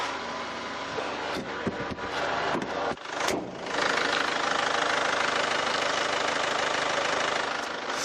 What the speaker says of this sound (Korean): 이 정도의 엔진 소음 기대하시면 될 것 같습니다